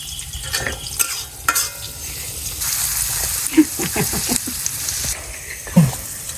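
Chilies and onion frying in oil on a new stove, with a steady loud sizzle, stirring scrapes and a few sharp utensil clinks throughout.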